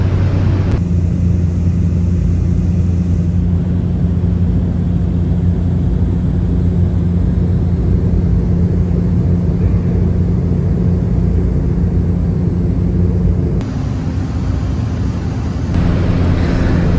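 A Cessna Caravan turboprop in Microsoft Flight Simulator drones as a loud, steady engine rumble throughout, shifting slightly in tone near the end.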